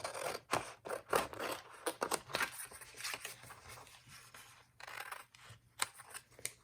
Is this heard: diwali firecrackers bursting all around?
no